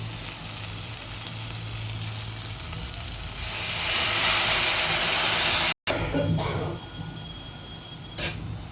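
Dal poured into a pan of hot tempering bursts into loud sizzling that swells midway, breaks off briefly, then settles into a softer fizzing hiss with light stirring.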